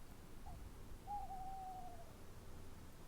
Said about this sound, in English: I heard you, Owl. You shut the heck up.